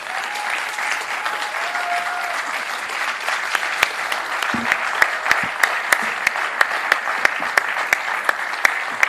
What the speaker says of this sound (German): Und damit beschließe ich die Podiumsdiskussion und das ist euer Applaus.